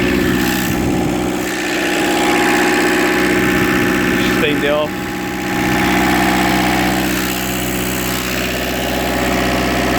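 Kubota KH-90 excavator diesel engine idling steadily with a constant low hum and vibration, someone talking briefly over it.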